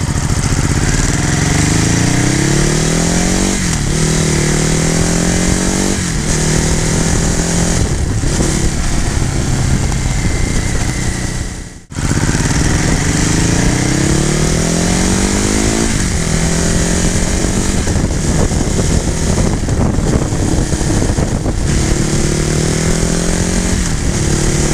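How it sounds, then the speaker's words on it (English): A 2017 Ducati Hypermotard 939 roars while riding, its exhaust rising through repeated rev climbs and gear shifts, loud and continuous with wind noise and a brief dip midway. "Now the exhaust, surprisingly, is not that loud."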